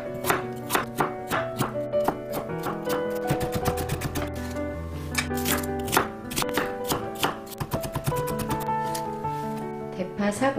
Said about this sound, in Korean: 당근 4분의 1개, 양파 6분의 1개는 잘게 다져서 볼에 담아주세요.